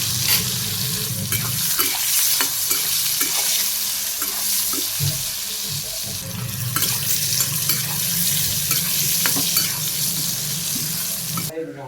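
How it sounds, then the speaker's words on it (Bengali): Eggplant slices coated in turmeric, chili and salt fry in oil in a wok, giving a continuous sizzle with a low hum and occasional clatter, running on steadily for several seconds. "কড়াইতে তেল দিয়ে দিই, আমি প্রথম বেগুন ভাজি করে নেব"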